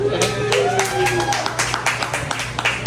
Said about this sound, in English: Give a round of applause for Kevin, ladies and gentlemen.